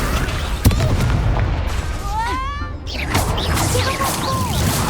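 A Confringo explosive spell fires in the Hogwarts Legacy video game, giving a loud sharp boom followed by crackling and whooshing effects amid continuous combat noise, close and dense.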